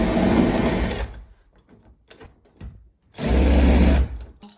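A power drill whirs loudly twice in roughly one-second bursts, pausing for quieter clicks and handling noises while old door handle screws are backed out.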